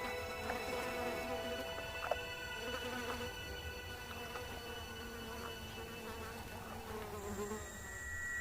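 Flies buzz steadily around resting lions in hot African bush, a dense continuous drone with individual insects passing close and fading, and faint narration underneath.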